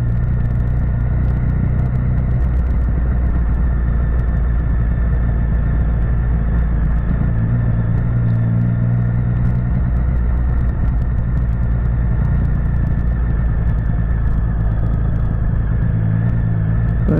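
Steady engine rumble and road noise from a car on a road, with a vehicle coming up from behind and passing, loud and continuous throughout with a swell in the middle.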